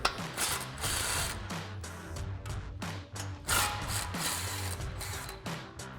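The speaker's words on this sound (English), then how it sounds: "we're gonna take our 2 bolts out of our lower ball joint bracket" A hand ratchet working on 19 mm lower ball joint bracket bolts of a 2016-2023 Toyota Tacoma front suspension, rapid close clicking strokes in repeated bursts with brief pauses between pulls.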